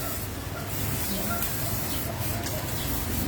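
Steady close hissing spray during a house renovation, a continuous airy rush with faint low rumble underneath, running throughout with no pauses.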